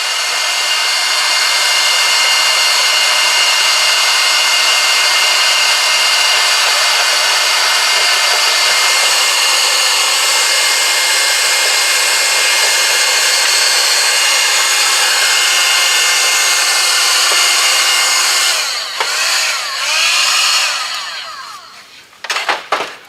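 A heat gun blows steadily and loudly on the painted body of a guitar to soften the paint. The whine is close and continuous, then breaks up and cuts in and out near the end.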